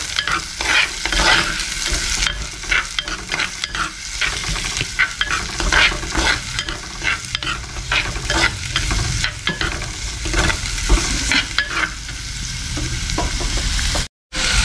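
Finely chopped onions sauté in a pan with a constant close sizzle, broken by frequent scraping stirs of a spoon against the metal, continuing in an uneven rhythm before a brief sudden silence near the end.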